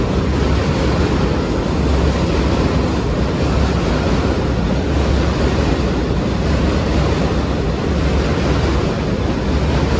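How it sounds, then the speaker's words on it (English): A New York subway 3 train rolling along, a loud, steady, close roar of rushing noise without pause and no voices. "That's the 3 train I took."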